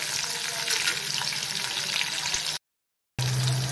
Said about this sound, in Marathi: यामध्ये आपल्याला लसूण चांगला असा लाल करून द्यायचा आहे, गुलाबी कलर होईपर्यंत तांबूस